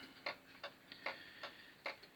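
Quiet, regular ticking of an antique London pendulum clock, steady tick-tock beats about twice a second, close and alone.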